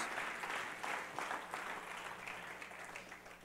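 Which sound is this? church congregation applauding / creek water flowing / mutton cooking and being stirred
church congregation applauding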